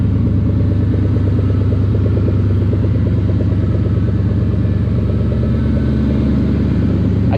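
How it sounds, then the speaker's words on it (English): Factory Five Cobra Roadster engine idling steadily up close, a loud deep rumble with a fast, even pulsing throb and no talking. "It turns on, flip the switch, it stays running, idles like it should."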